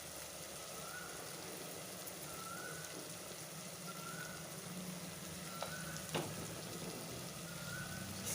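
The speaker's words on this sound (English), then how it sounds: "Stir it all very well," Dhalcha, a Muslim lentil curry with mint, coriander and curry leaves, sizzles steadily in a pan under a constant hiss, with occasional light scrapes and taps of the spoon, close and moderately quiet, no voices.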